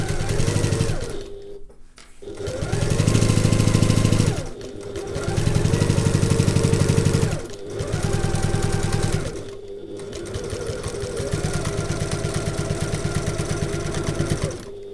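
A sewing machine stitches a seam on a handbag at a 3/8-inch allowance, running in loud steady bursts of rapid mechanical whirring separated by brief pauses.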